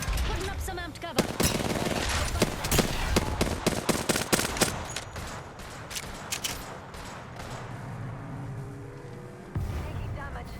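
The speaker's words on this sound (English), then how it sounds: "Taking fire." Rapid, loud bursts of video game gunfire, dense at first and then thinning into scattered shots, with a voice speaking over the shooting.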